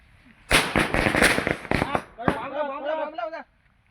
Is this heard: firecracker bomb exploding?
yes